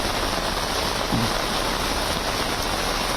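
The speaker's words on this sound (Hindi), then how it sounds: "ये बारिश रुकने का नाम ही नहीं ले रही," Heavy monsoon rain pours down in a steady, dense hiss, a broadband wash that stays even and fairly loud throughout, with no voices over it.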